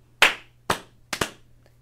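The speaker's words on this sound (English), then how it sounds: "I'll say clap 3 times" Three sharp, clean hand claps ring out in a quiet room, evenly spaced about half a second apart, the last one slightly doubled, with nothing else around them.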